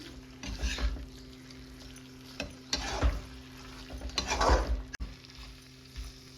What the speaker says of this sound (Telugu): దీనిలో యాడ్ చేసేసుకొని చక్కగా కలిపేసుకోవాలి చికెన్